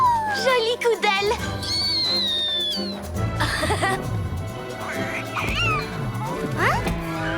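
A tabby cat in a French children's cartoon gives cartoonish meows and caterwauls, loud and close, mixed with whistling swoops, bright sound effects and music, with a voice speaking briefly.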